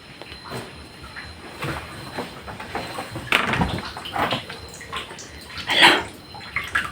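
Water runs and splashes inside an abandoned house near a forest, coming as irregular bursts of gushing and spattering close by, with a louder surge near the end.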